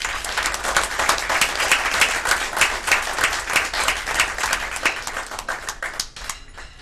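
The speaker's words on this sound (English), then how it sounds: "let's give them an applause" An audience applauds presenters at a school board meeting, a dense steady clapping that runs for several seconds and thins out toward the end.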